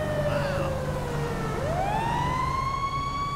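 A fire truck siren wails in the video game GTA 5, its tone sliding down and then rising into a steady high whine, moderately loud with traffic rumble beneath.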